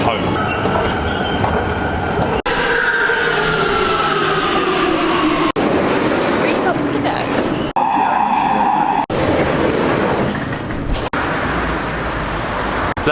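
A Warsaw metro train rides through a tunnel with a loud, steady rumble and squealing wheel tones, broken by brief gaps as it rolls along without audible talking.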